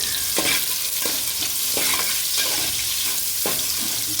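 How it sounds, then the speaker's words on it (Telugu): Sliced green chillies and chopped onion fry in oil in a pan, giving a steady close sizzle broken by about six rhythmic scraping stirs of a spoon, with no talking. "బాగా వేయించుకోవాలండి"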